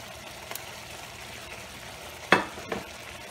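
Shrimp scampi sizzles in a pan with butter and lemon zest: a steady soft frying hiss with a couple of brief clinks and stirring sounds.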